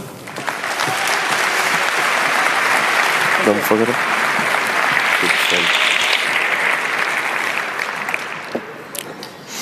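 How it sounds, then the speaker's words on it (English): A conference audience gives sustained, full applause to welcome two speakers, a dense wash of clapping that swells and then fades, with a brief spoken remark partway through. "Please, a warm, welcoming applause for Will and Eduardo."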